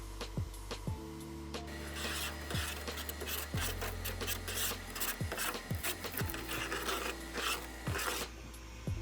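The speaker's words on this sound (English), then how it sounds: "Just doing a spot of paint stripping." Repeated rasping strokes as paint is sanded and stripped from a car bonnet, close and fairly loud, with scraping passes and occasional sharp knocks throughout.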